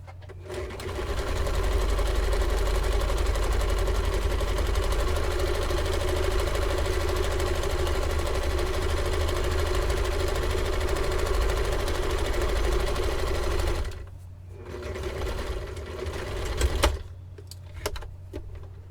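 A sewing machine runs steadily while stay stitching the top edge of a Kwik Sew K4203 garment piece, a loud, even motor whir for about thirteen seconds before stopping, with a few short bursts of handling noise after.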